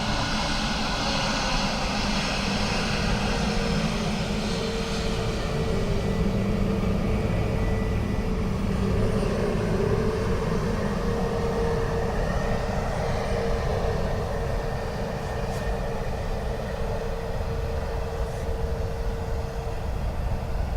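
A Ryanair airliner lands in a crosswind at Dublin Airport, its engines making a continuous, fairly loud rumbling roar that stays steady throughout with no voices.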